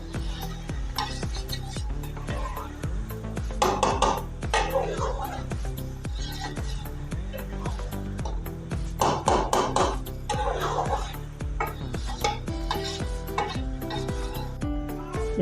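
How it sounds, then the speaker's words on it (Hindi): Bitter gourd and beef are stirred and roasted in a pot for karela gosht, with repeated scraping and faint sizzling under steady background music. "हमें इसकी इसी तरह अच्छी तरह बुनाई करनी है।"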